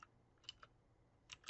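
Light typing on a computer keyboard, a few scattered soft key clicks in two small clusters, faint and close in a quiet room.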